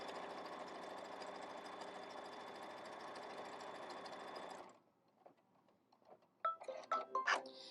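A sewing machine runs steadily and loudly for several seconds, stitching a satin stitch across a seam on a hexagon quilt block, then stops, leaving faint handling clicks and a few sharper rattles.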